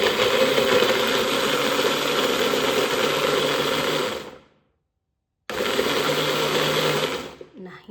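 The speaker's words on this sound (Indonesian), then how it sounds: "Sekarang kita blender dulu bumbunya," An electric blender grinds spices for Indonesian sambal with teri and tofu, a loud steady whirring drone that cuts out briefly and then resumes.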